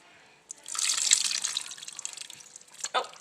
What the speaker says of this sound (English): So I'm going to dump my vegetables in my soup.